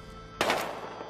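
A single sharp gunshot in the video game Battlefield Hardline cracks out over a low background hum and ends in a short reverberant decay.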